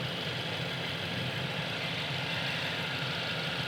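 A 2.0-liter TSI four-cylinder in a 2020 Volkswagen Atlas Cross Sport SEL idles steadily with a smooth, even hum, heard up close under the open hood with no speech.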